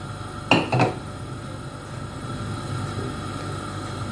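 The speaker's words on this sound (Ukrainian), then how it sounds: "і на розігріту сковороду викладаємо наші пиріжечки" Two quick clattering knocks as cabbage pies are set into a hot frying pan with oil, followed by a soft steady sizzle and faint kitchen hum.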